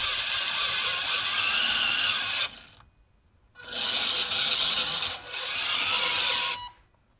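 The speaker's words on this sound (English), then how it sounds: "The noise you hear when things are moving is a result of the PWM signal that drives the motors." A BB-8 robot's drive motors give off a steady mechanical whine from their PWM drive signal, with a ratcheting, gear-like texture. It runs loud and close in long stretches, cut by two brief pauses.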